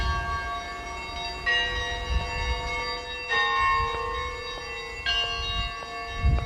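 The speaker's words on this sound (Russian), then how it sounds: "церковный звон вновь разнесся над Николо-Березовкой и над Камой" Church bells ring out over a village on the Kama river, with several loud, resonant strikes that sustain and overlap, each new stroke layering on the fading hum of the last.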